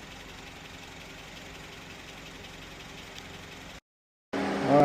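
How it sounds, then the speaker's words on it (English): Radiator cooling fans on a 2009 Honda Civic that overheats in traffic run with a steady whirring drone. A short gap of silence follows, then the sound returns louder and harsher, close by, with no talking. "The fans just came back on for the second time."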